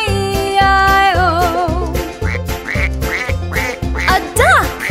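Cartoon-style duck quacks sung within the Old McDonald children's farm song, a run of rhythmic quacks over a bouncy, loud musical backing; a singing voice imitates the duck.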